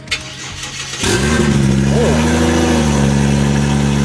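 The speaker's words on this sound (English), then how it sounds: "Test startup of the Wundun. See if it starts, see if it works." A car engine cranks briefly and catches, then settles into a loud, steady, rough idle with a small rev partway through, heard close up.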